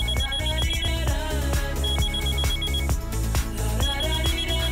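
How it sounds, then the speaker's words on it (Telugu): A telephone ringing in a Telugu movie scene, a loud repeating electronic ringtone melody with steady pulsing tones throughout, up close and with no voices. "ముందు ఫోన్ కలుపు."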